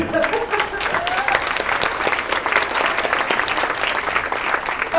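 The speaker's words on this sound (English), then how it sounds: "he gets mad applause" Steady applause from a crowd, dense clapping filling the room throughout, with a few voices faintly mixed in.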